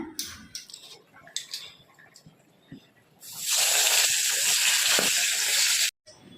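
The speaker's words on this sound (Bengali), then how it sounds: "চলো ডালের জন্য আমি এখানে আদা, জিরে আর তেজপাতা ফোড়ন দিয়ে দিচ্ছি।" Ginger, cumin and bay leaf drop into hot oil to temper dal. After a few quiet clinks and handling noises, a loud, steady sizzling hiss takes over for several seconds, then cuts off abruptly.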